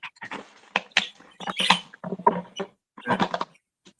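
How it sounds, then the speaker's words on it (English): Close, irregular crackling and squeaky crunches of a plastic pop bottle being chewed and batted by a dog, in short bursts separated by brief pauses. "Well, Cash found a pop bottle. That's the noise you're hearing"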